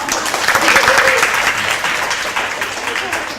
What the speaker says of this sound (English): co-teacher, give him a round of applause.